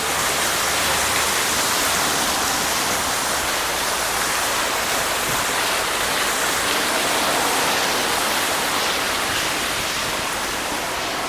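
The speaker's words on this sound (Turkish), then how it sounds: "Şöyle su havuzu." Water splashing in an outdoor pool, a steady broadband rush that stays loud and even throughout with no voices.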